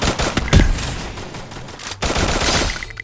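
Rapid automatic gunfire in the mobile shooter game Free Fire, dense bursts of shots with a loud blast near the start and sustained firing throughout.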